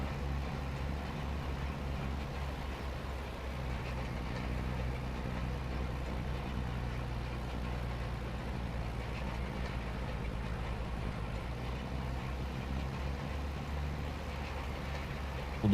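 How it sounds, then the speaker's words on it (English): Tractor engine in the farming game Farming Simulator 25, pushed hard under load: a steady, continuous low rumble with a throbbing hum, even in level throughout and heard alone. "I'm pushing the tractor to the limits though."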